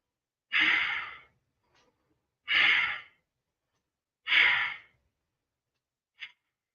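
Slow, deep breaths taken while holding a yoga backbend pose, three long airy exhales spaced about two seconds apart, close and quiet in a silent room, followed by a brief faint inhale.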